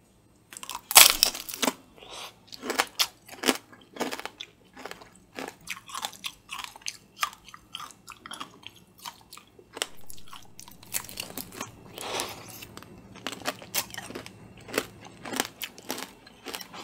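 Close, crisp bites and crunching chews on candied strawberry tanghulu and jelly, with sharp cracks of the sugar shell at irregular intervals among softer, wetter chewing, no talking.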